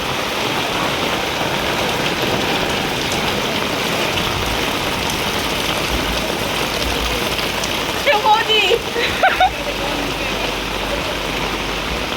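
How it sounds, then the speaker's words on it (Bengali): Rainwater pouring off a roof during flooding after hours of heavy rain, a loud, constant rushing splash of falling water with a brief clatter of handling noise partway through. "এটা ছাদ থেকে নামছে জল"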